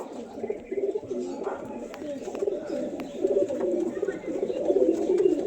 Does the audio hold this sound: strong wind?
no